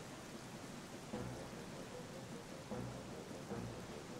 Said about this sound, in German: Jetzt fängt es auch zu regnen an.